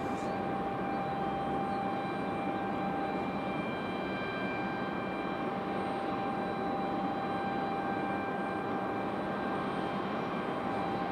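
Airliners from American and Delta taxi out at Raleigh-Durham airport, a steady broadband engine rumble with a sustained whine running evenly throughout, moderately distant and without any voices.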